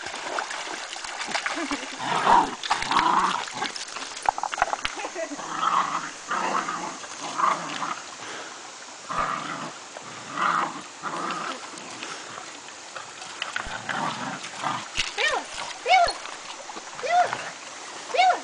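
Two dogs, Abby and Bella, play and swim in water at Clifty Falls, with repeated splashing, low playful growls and occasional yelps, while people's voices call out intermittently nearby.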